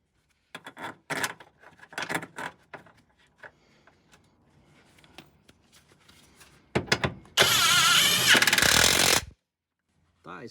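A DongCheng brushless impact wrench breaks loose a notoriously tight car subframe mounting bolt, a loud, dense burst of hammering whir lasting about two seconds, preceded by clanks and handling noises.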